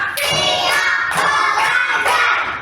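Children in a primary school classroom clap in a rhythmic chant, with several sharp group claps spaced out in time, each one loud and close, mixed with young voices chanting.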